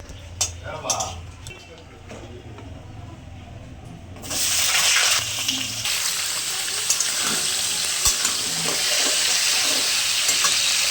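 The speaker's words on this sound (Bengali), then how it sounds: "এবার আলু পটলটা একটু ভেজে নেব" Potato and pointed gourd frying in white oil with cumin, a loud steady sizzle that jumps up sharply a few seconds in as the vegetables hit the pan, with stirring scrapes and a voice speaking early on.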